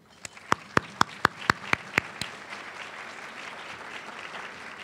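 Sharp, loud claps ring out in a quick evenly spaced run of about eight at a women's foundation annual luncheon. A softer, diffuse patter of audience applause follows and fades out.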